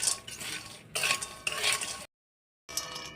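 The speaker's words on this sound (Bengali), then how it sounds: "ভুট্টার খই এটা দিয়ে এখন খানিকক্ষণ নাড়াচাড়া করবে যেন পপকর্নের মতো হয়ে যায়।" Fried puffed corn is stirred in a pan for popcorn, making scraping, rattling bursts with light metallic clinks, broken by a short silent gap before the stirring resumes.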